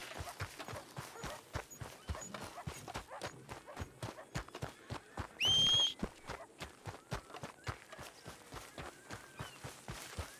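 Steady hoofbeats of a horse clip-clopping in a video game, an even rhythmic stream of close, distinct strikes, with a short bright burst partway through.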